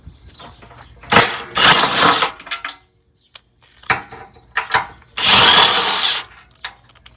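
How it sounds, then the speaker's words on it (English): An impact gun drives bolts while an ARB bumper is fitted to a Toyota Sequoia, with two loud rattling bursts and several short clicks and clanks between them. "Use the impact gun on these."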